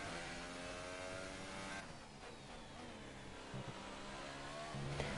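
Race car engine on a flying qualifying lap at the Russian Grand Prix in a racing game, heard from the cockpit: a steady high-pitched drone with rising and falling revs through gear changes, faint and continuous.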